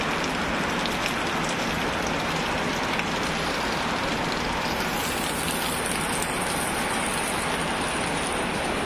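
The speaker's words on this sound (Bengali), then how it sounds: "এখনো কিরকম ভাবে বৃষ্টি হইতেছে।" Heavy storm rain pours steadily onto surfaces in a village, a dense continuous hiss with scattered drops and no voices.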